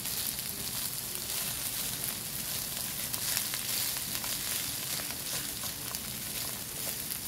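Fried rice with garlic sizzles steadily in a hot pan as it is stirred, a dense continuous crackle with faint scraping, close and even throughout.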